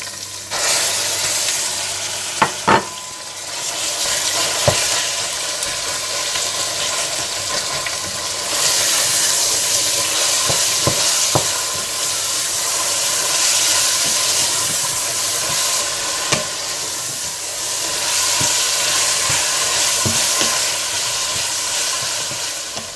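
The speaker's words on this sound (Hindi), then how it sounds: "जब प्याज हल्के से ब्राउन हो जाए तो आप इसमें डाल दें पिसा हुआ अदरक लहसुन और कीमा डालकर अच्छी तरह से भून लें" Minced mutton keema fries with ground ginger, garlic and lightly browned onions, a steady loud sizzle and hiss up close, broken by scattered sharp clicks of a spoon stirring against the pan, with no talking.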